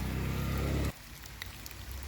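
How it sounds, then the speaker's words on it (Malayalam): Steady morning rain patters on surfaces at Echo Point. A louder low rumble at the start cuts off abruptly, leaving the even hiss of falling rain. "മഴയാണ് രാവിലെ തന്നെ നല്ല മഴയുണ്ട് ഇവിടെ"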